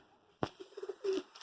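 A Madrasi crossbred pigeon coos softly at close range, a few short throaty notes following a sharp rustle or tap.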